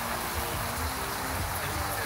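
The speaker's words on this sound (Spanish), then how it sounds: "Y nos llueve." Rain falling steadily at an outdoor mountain bike trade show stand, a soft continuous hiss of drops that fills the short clip at low level.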